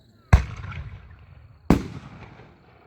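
A yellow peony firework with a green strobing pistil goes off in two sharp, loud bursts about a second and a half apart, each trailing into a crackling decay.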